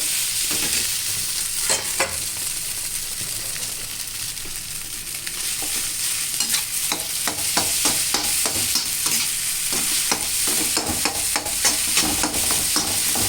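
Noodles stirred and fried in a pan, a steady close sizzle broken by repeated scraping and clattering strokes of the spatula, with no talking.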